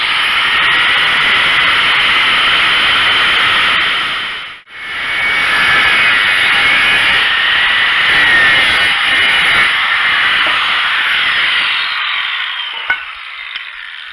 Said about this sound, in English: So he's cutting it in half. This time we're trying using the grinder.